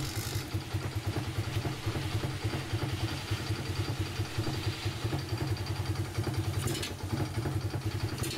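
A Fury 125 motorcycle with an open carburetor, started by kickstarter because of a dead battery, idles with a steady, fast low thump and rattle close by throughout.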